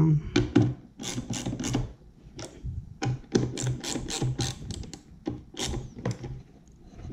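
Battery terminal connection on a WattCycle 12V 100Ah LiFePO4 battery being tightened down, close-up bursts of rapid ratcheting clicks separated by short pauses, repeated several times.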